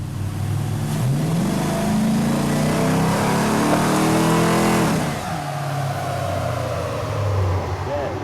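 A Chevy Blazer 4x4 with a swapped LS V8 revs hard on a dyno, the loud engine note climbing steadily in pitch for several seconds before dropping off to a lower, rumbling idle.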